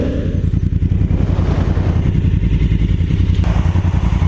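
Honda Africa Twin motorcycles (CRF1000L, CRF1000D, CRF1000L2) riding downhill on Lytle Creek trails, with a loud, steady engine drone and rattling wind noise close by throughout, no talk.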